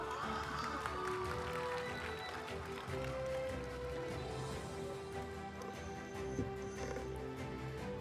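An audience applauds at a school annual function, a steady wash of many hands clapping together that carries on through the whole stretch.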